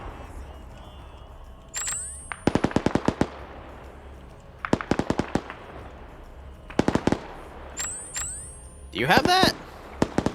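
Sharp rapid volleys of video game gunfire and explosive GP-25 grenade launcher shots, loud and in several bursts, with whistling projectile sounds in between; a person speaks briefly over the action.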